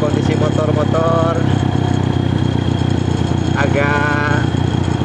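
Several motorcycles ride a muddy, rough mountain trail on the route toward Bromo KW in Garut, their engines droning steadily and loud throughout, with people talking over the engine noise.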